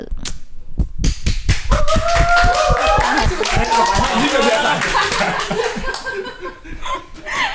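Several people clap their hands in a rapid, close burst of applause that starts with single claps and builds, mixed with laughter and chatter throughout.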